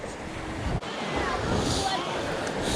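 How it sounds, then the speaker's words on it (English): Choppy water slapping and splashing along the shore at Beverly Triton Nature Park in Mayo, Maryland, near high tide on a windy day, a steady broadband wash of small waves with wind rumble across the microphone. "That water's really choppy today."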